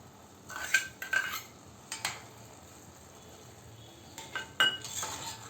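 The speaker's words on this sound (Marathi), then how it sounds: "आपण आता या भातामध्ये ही साखर मिक्स करून घेऊया आणि भात हलवूया" A utensil stirs sugar into cooked rice in a pot for narali bhat, making sparse scrapes and light metallic clinks in a few short clusters against a quiet background.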